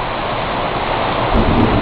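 Heavy rain pours steadily during an afternoon thunderstorm with flooding, a loud continuous hiss, and a low rumble of thunder swells near the end.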